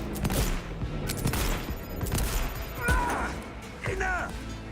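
An enemy fires a gun in Cyberpunk, a few sharp gunshot bursts and crashes close by amid game effects, with a voice talking over them.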